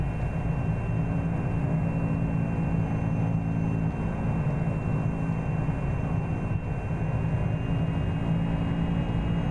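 Steady, loud drone of a private plane's engine in the X-Plane 11 flight simulator, an even continuous hum with no talk over it.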